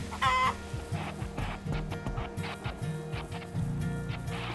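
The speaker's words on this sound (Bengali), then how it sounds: "এটা হলো মুরগি ওটা হলো মুরগা" Hens and a rooster from the Farm Land video game cluck in quick, repeated electronic bursts, with a sharper call at the start, all fairly faint and with no talk.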